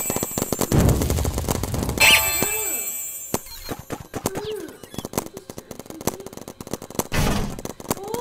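A sniper gun fires in a paintball video game, with sharp metallic cracks and clangs repeating irregularly among busy game effects and faint bird-like chirps, loud and close throughout.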